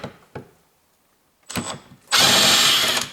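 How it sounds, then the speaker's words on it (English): An electric screwdriver with a socket runs on the bolts of a BMW 5 Series side mirror, giving short whirring bursts, then one loud sustained run at close range, with a few clicks and handling noises beforehand. "now I use my electric driver, there is socket, opening direction in this way"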